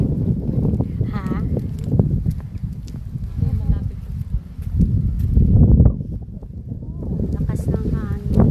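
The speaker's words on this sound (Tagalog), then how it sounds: "Lakas ng hangin." Strong gusty wind buffets the microphone outdoors during a walk to a cemetery, a steady low roar with louder surges, while people talk over it.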